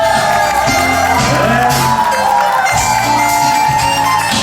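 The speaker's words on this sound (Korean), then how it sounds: "뜨거운 함성이 더 많은 것 같습니다" A large crowd cheers, whoops and shouts loudly and continuously at a founding ceremony for a gogo janggu drum association in Incheon, with music playing underneath.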